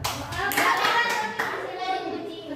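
A class of young scouts claps in a classroom, a short burst of close, uneven hand claps mixed with children's chatter and voices.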